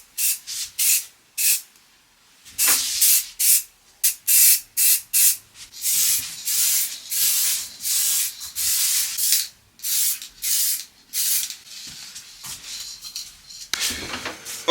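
An aerosol can of satin clear coat sprays old 1920s hallstand hardware in a run of short, loud, close hissing bursts with brief gaps, some longer sprays, and light metallic clinks between them.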